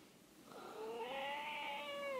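A house cat with a sore eye gives a single drawn-out meow that rises and then slowly falls, fairly soft and close in a quiet room.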